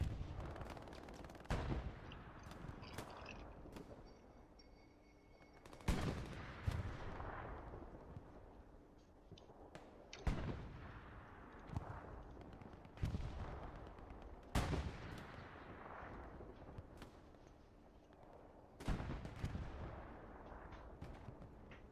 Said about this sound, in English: Airhead bombing run